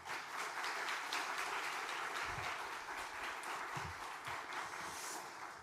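A church congregation applauds steadily, a dense wash of many hands clapping at moderate volume throughout, without a break, welcoming a pastor to the pulpit.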